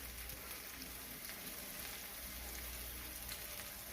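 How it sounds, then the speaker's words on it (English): Ribeye steaks seasoned with salt and black pepper fry in a pan while being basted with rosemary and garlic, giving a steady, dense sizzle that stays even throughout, with no voices. "we're gonna baste the steaks for the last few minutes of the cooking process"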